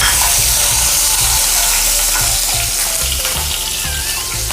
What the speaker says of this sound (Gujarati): હવે એમાં આપણે અદરક મરચાં નાખી દઈશું અને લીમડો